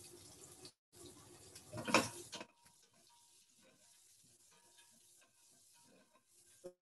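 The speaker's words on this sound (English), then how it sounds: "While the onions are cooking" Onions cooking in a pan over a fire, a faint sizzle with a short louder hiss early on, then quiet crackles and small clicks, close and without talk.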